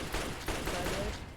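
Gunfire in the video game Fallout 3, a dense burst of rapid shots layered over game sounds, fairly loud and continuous for just over a second.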